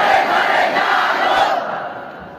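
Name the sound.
crowd shouting takbir in response to the call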